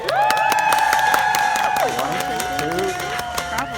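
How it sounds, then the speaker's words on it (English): Audience applause rings out with scattered claps and cheering, heavy and steady over a held tone and background voices, then easing slightly partway through. "give him your applause"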